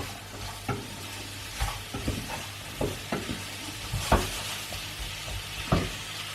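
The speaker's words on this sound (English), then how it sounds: "So I've stir fried the peppers and the red onion for 3-4 minutes" Peppers and red onion stir-frying in a pan over high heat, giving a steady close sizzle broken by several sharp clatters as the vegetables are stirred and tossed.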